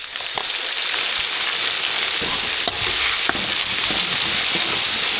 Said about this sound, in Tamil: கடுகு நல்லா வச்சு கருவேப்பிலை சேர்த்துக்கலாம் தேங்காய் சோம்பு ஜீரகம் பச்சை மிளகாய் இது எல்லாமே அரைச்சிருக்கிறோம் இதையும் சேர்த்து தாளிப்பு கூட நல்லா பச்சை வாசனை பொருளவுக்கு வதக்கிக்கலாம்